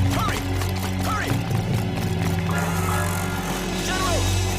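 A horse gallops off at night in a Chinese historical drama, its steady hoofbeats running under a droning musical score.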